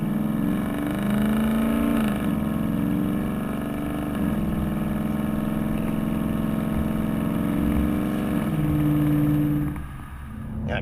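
A 2015-2017 Mustang GT fitted with a Roush axle-back quad tip exhaust gives a deep, steady engine drone while cruising, with the pitch rising and falling slightly and no talking.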